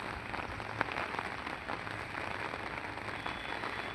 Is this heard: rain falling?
yes